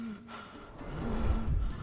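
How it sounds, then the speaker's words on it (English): A suffocating man in the Sherlock Holmes Chapter One video game gasps and struggles for breath, the ragged, close, continuous breathing staying loud throughout. "He has trouble catching his breath."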